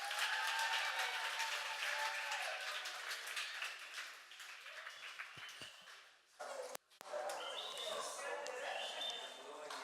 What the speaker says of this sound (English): So would you please clap it up for him as he comes up?